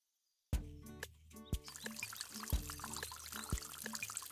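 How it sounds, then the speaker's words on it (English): Rain and water pour down steadily in a children's cartoon about an elephant, with a few loud water drops or plops landing at regular intervals over a continuous splashing trickle, close and fairly busy. "It's raining."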